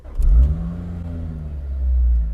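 A Lotus Elise engine fires up with a quick rev, then settles into a low, throaty idle that rises again briefly near the end, close and clear with no talking.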